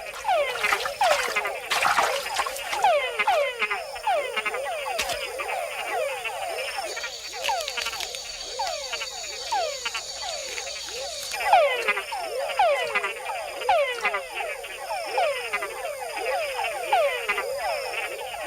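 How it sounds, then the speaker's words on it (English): Male frogs calling in a Panama rainforest, a dense chorus of repeated chirping, chuckling calls in quick rhythmic bursts, close and clear with a few scattered other frog notes, no voices. "And with other bigger frogs nearby, a call can be a fatal attraction."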